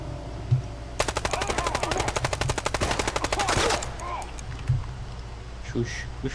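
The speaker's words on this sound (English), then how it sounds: "we're shooting now" Rapid automatic gunfire in the shooter game Contagion, a fast evenly spaced burst of about three seconds, followed by a few isolated shots, with a player's voice talking around it.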